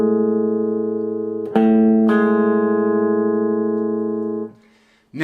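A major seventh interval on a sustained electronic keyboard tone, a low held note joined by a higher one with a sharp attack, both ringing loudly before fading out.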